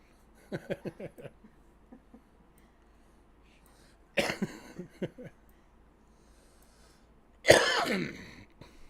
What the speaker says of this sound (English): didn't mean to cough in your ear